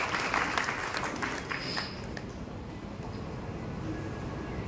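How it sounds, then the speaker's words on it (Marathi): An audience applauds Sushilabai Nandwalkar at a Diwali special issue launch ceremony in Dhule, a steady wash of clapping that fades slightly but holds to the end. "त्यांच्यासाठी एकदा टाळ्या वाजवा"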